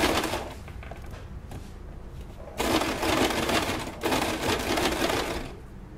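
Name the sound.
sewing machine stitching a bra edge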